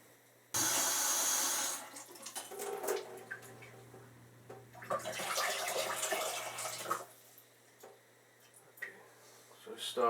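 Cold tap water pours steadily into a large cooking pot for turkey soup. It runs loud at first, then comes in uneven spurts and splashes as the pot fills, with no talk.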